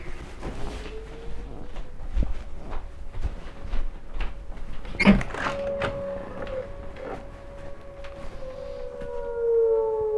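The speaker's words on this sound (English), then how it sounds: "Hear that siren." A siren wails under steady background noise, with a sharp clatter near the middle and a rising, sustained tone that swells toward the end.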